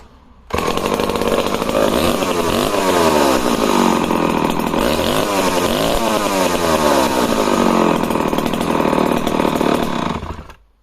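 An early-1960s 110cc chainsaw engine (63.5 mm piston, about 35 mm stroke) starts up and runs loud and close with a raspy two-stroke snarl. It revs up and down repeatedly before dying away at the end.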